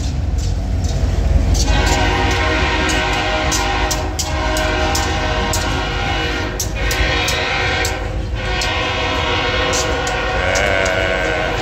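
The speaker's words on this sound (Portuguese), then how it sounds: "Se eu não me engano, esse aí é o nosso trem" A train pulls into a station in New York, its horn sounding loudly over a steady rumble and faint clickety-clack of wheels, with crowd noise around.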